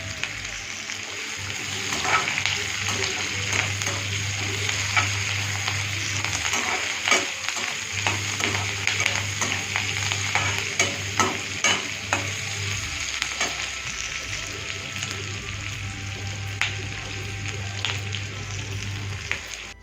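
Onions and curry leaves sauté in hot oil for liver fry, a steady sizzle broken by frequent sharp spatula scrapes and taps against the pan, with a low hum underneath.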